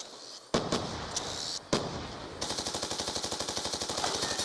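MQ-27 Dragonfire drone firing in Call of Duty: Black Ops 2, a few sharp isolated shots followed by a rapid, evenly pulsing automatic burst, loud and sustained to the end.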